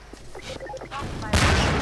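Gunfire in the Half-Life 2 video game, a voice talking and game sounds followed by a loud, dense burst of shots that fills the last half second.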